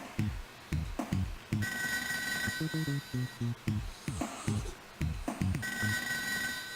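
Telephone ringing in the ToeJam & Earl video game, repeated ring bursts over game music and effects, moderately loud.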